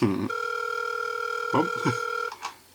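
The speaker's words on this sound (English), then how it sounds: "I have a phone call I need to make" A telephone rings as a call is placed, a steady two-tone electronic ring lasting over two seconds, broken by short bursts of other tones near the end, with no talking.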